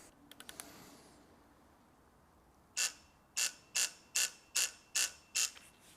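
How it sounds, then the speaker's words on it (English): A wrench brings a bolt on a BMW car to 10 newton meters, sounding as a quick run of faint clicks followed by seven sharp, evenly spaced ratcheting clicks close by. "And now you have to torque it to 10 Newton meters."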